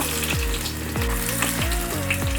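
Ginger, crushed garlic and onion frying in coconut oil give a steady close sizzle, with several soft knocks from a spoon stirring the pan at roughly half-second intervals.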